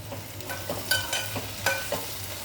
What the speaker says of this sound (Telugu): ఉల్లిపాయ ఇంకా వేగాలండి ఉల్లిపాయని బాగా బ్రౌన్ కలర్ చేయాలి